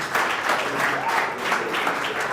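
Audience at a tech centre launch event in Africa applauding in a steady, moderately loud wash of clapping with no voices over it.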